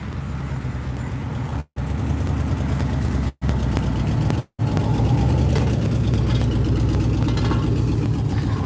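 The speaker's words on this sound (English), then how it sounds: "That's like, that truck is like really broken down." A badly broken-down truck engine runs continuously with a rough, low rumbling drone at close range, loud and steady for several seconds, broken by a few brief dropouts and with no talking.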